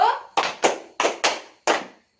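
Children in a classroom play a clapping rhythm game, giving six sharp, close hand claps in an uneven counted pattern with short pauses between them.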